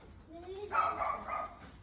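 A dog gives a short whining yelp that turns into a bark, heard from some distance and fairly quiet.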